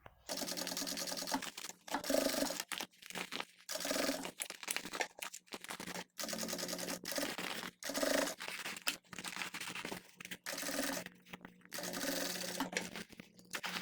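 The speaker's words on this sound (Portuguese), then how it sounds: "E aí eu vou passar a costura aqui." A sewing machine stitches a zippered carry case with a transparent window, running in steady, fast mechanical bursts separated by short pauses, loud and close.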